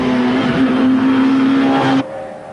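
A Peugeot 205 rally car on a stage of the Ulster Rally: loud, steady engine drone at high revs held close by, cutting off sharply into a quieter fade as it passes; no voices.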